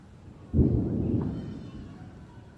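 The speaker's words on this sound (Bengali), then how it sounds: "বিদ্যুতের আওয়াজ" A single low rumble of thunder from a storm under dark, heavily clouded skies in a village, rolling in suddenly and slowly fading over about two seconds.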